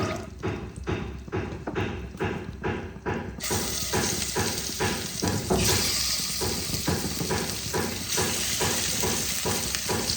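Rohu fish pieces, seasoned with turmeric and salt, frying in hot oil in a kadai: loud crackling sizzle that pulses in quick bursts at first, then settles into a dense, continuous spitting hiss.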